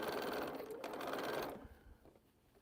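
A sewing machine whirs briskly for about a second and a half while piecing quilt rows, then stops abruptly, leaving faint room noise.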